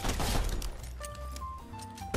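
Shotgun blasts in a Fortnite-style battle game, with a dense burst of loud gunfire up front that thins into tonal game sounds, and one more sharp shot at the very end.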